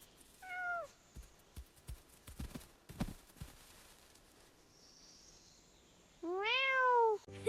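A cat meows twice: a short call at the start and a longer, louder, rising-and-falling meow near the end. Scattered knocks and light thuds fill the quiet between the two calls.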